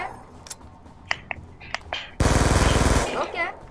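Rapid automatic gunfire from Call of Duty Black Ops 2, a loud, dense burst about a second long with a sharp rattling rhythm, following several brief clicks and small in-game sounds.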